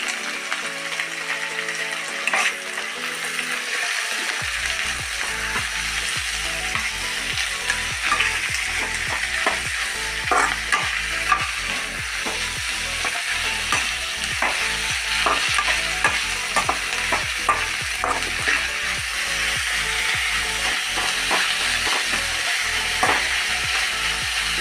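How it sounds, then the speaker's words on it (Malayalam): Chopped onions and salted, wilted drumstick leaves fry and sizzle in a pan for an egg stir-fry, with a steady broadband hiss and repeated close scraping and stirring clicks from a spatula, and no talk. "മുരിങ്ങയില എല്ലാം വാട്ടി വെച്ചിട്ടുണ്ട്. അത് ഞാൻ ഇതിലിടണം."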